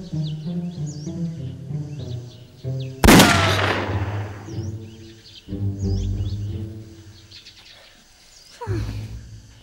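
A gunshot at shooting practice: one sharp, loud crack that rings out and decays, set against background music and bird calls, with a fainter sharp snap near the end.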